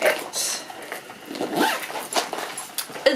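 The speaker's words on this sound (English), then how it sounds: "when I zip it back in," A zipper is drawn closed on a makeup pouch during packing of a carry-on, making quick scratchy pulls close by, with a voice faintly present underneath.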